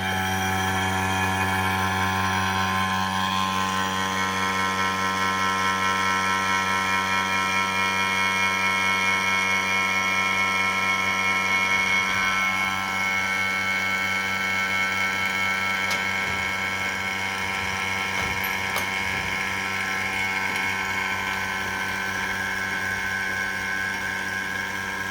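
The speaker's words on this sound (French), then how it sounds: "Je peux donc, en vérifiant s'il y a de l'huile, lancer la pompe à vide." A vacuum pump runs steadily while an air-conditioning installation is pulled to vacuum, giving a loud, even mechanical hum with a strong tonal whine that holds unchanged throughout.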